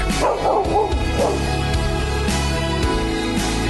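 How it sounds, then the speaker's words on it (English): A security dog barking repeatedly in an outdoor setting, a run of loud close woofs and yips with brief whimpers between them, over a steady background hum. "Sometimes I think we need security from our security dog."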